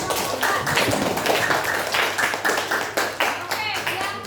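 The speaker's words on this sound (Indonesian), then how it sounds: "tepuk tangan untuk kelompok 4" Classroom group of people clapping for a presenting group, many quick hand claps in a busy, continuous patter with voices mixed in.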